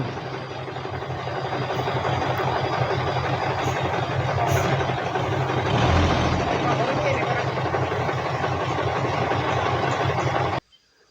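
A truck delivering soil at a Thai temple rumbles steadily as it idles and manoeuvres nearby, a continuous low engine drone that cuts off abruptly at the end.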